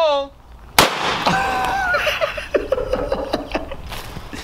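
A single sharp, loud shot bursts from a powerful gun with heavy recoil, followed by laughter and chatter from people nearby.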